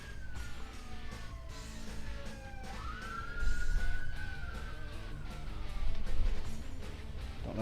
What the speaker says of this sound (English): I got freaking an ambulance going by my house